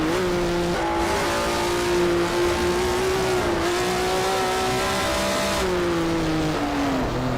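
Historic touring car engine in the rFactor racing game droning steadily at high revs, pitch rising and falling through gear changes with brief lifts off the throttle, loud and continuous throughout.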